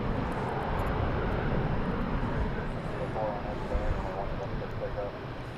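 Airliner at DFW Airport, a steady broad jet engine roar held loud and continuous throughout, with a voice faintly talking over it.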